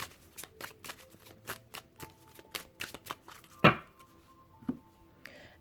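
Close, rapid riffling and slapping of oracle cards being shuffled in quick bursts, ending with a louder tap and a few soft handling sounds.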